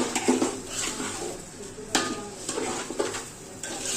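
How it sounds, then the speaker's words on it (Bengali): Rice fried in oil in a pot for Old Dhaka style biryani, stirred with a utensil that scrapes and clanks against the metal in irregular bursts over a low background sizzle, close and moderately loud, no talking. "চালটা ভালো করে ভেজে নেব"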